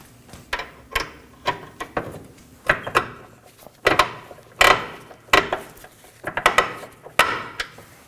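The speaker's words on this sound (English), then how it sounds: "I'm going to use the 18mm socket and an extension to gain enough leverage to slide the bolt in" A bolt is worked into the front lower ball joint of a 2013-2019 Nissan Sentra using an 18mm socket on an extension. It gives a series of close, sharp metallic knocks and ratcheting clunks at an uneven rhythm.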